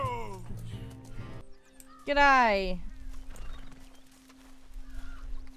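A horse in Red Dead Redemption 2 lets out one loud, rising whinny mid-clip, with hoof clops and game ambience around it while a player speaks briefly.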